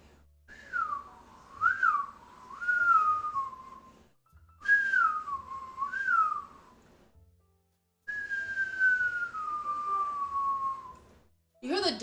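A person whistles with a pasta shell tucked in the cheek, giving close, wavering, warbling tones in three phrases split by short pauses, the last a long gliding note that slowly falls in pitch.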